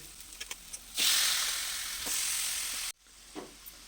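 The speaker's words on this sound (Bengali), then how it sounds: "দিয়ে এবার 4 থেকে 5 মিনিট মতন এটাকে কষে নেব মাংসটাকে" Mutton with chilli, turmeric and other ground spices hitting a hot pan, a sudden loud burst of sizzling frying that holds for about two seconds before cutting off abruptly, close up.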